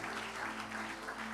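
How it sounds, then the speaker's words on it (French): A church congregation applauds for Jesus during a sermon, a dense, steady wash of many hands clapping together without pause for the short moment. "on peut acclamer une minute pour Jésus"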